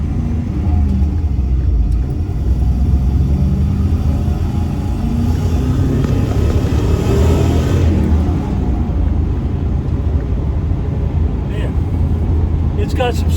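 LS-swapped car with a 6-speed manual pulling away in first gear, a loud continuous engine rumble and road noise close by, with a voice talking over it.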